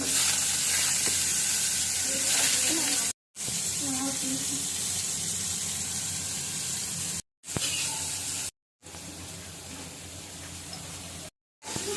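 Potatoes frying in a pan for biryani give off a steady, close hiss of sizzling oil that runs through the clip, broken by several brief dropouts into silence.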